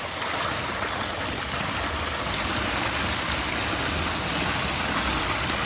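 Water gushing steadily from a clogged backyard pond raised about an inch above its usual level, a dense continuous rushing flow heard close and fairly loud for several seconds with no voices.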